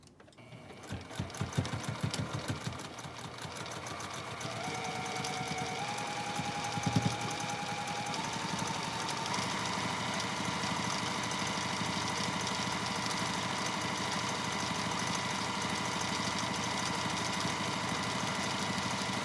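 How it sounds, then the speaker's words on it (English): A sewing machine stitches the seam of a scrub cap made from a fat quarter of cotton, running in a steady, continuous whir close by for nearly the whole stretch after a few brief starts at the beginning. "So now I'm going to sew that seam."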